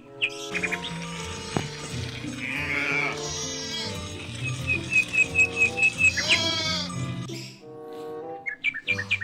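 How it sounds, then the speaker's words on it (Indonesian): A white sheep bleats repeatedly up close, its wavering cries rising over a busy background of bird chirps and other animal calls, with no talk. "Domba berwarna putih teman-teman."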